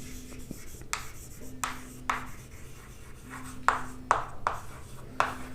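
Chalk or marker strokes on a board as a physics teacher writes in a classroom, a series of quick scratching taps and short scrapes in an uneven rhythm, close and clear.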